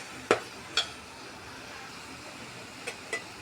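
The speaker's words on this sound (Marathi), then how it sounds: "हे आता तेल सुटेपर्यंत परतून घेऊ मस्त आपण।" Turmeric and ground spices sauteed in oil for dhaba-style chickpea curry, a soft steady sizzle broken by four sharp scrapes of a spoon against the pan, close and clear.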